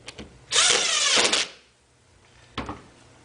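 A power screwdriver drives screws into the top of a rooftop pipe support block, one close loud whirring burst of about a second followed by a brief shorter second buzz.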